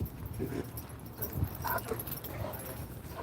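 Dogs barking and whimpering in a room, with short yips and whines over a low rumbling background, moderately close and not very loud, and some faint clatter.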